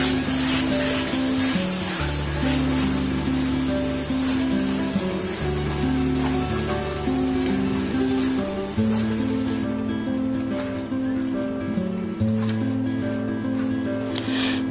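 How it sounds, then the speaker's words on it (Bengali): Onion and tomato paste frying in a pan for a mutton dish, a steady, close sizzle that runs under sustained background music throughout. "পেঁয়াজ আর টমেটো বাটাটাও এবার ভালো করে লাল লাল করে ভেজে নেব, যেন কাঁচা গন্ধটা চলে যায়।"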